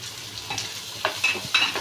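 Chopped red amaranth stems hit hot oil in a pan and crackle, a soft steady sizzle broken by a few sharper pops and stirring scrapes, fairly quiet and without voices.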